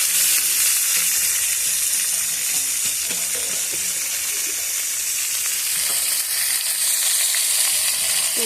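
Foraged leafy greens rubbed with turmeric and salt, frying in a pan alongside lentil dumplings, onion and garlic: loud, close, continuous sizzling with crackles and occasional stirring scrapes, no voices.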